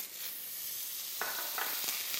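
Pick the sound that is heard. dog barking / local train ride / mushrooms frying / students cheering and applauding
mushrooms frying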